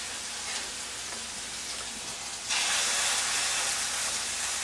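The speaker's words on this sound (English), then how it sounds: "What I'm doing is achieving a nice sear on the meat" Meat searing in hot olive oil in a pan: a dense, continuous sizzling hiss, close and fairly loud, swelling noticeably louder about halfway through, with no voices.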